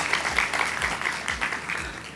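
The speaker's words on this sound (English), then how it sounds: "Can we have applause for Cecilia?" Audience applause at a storytelling session on Indigenous and local knowledge, a soft continuous patter of many hands clapping, moderately loud and steady with no speech over it.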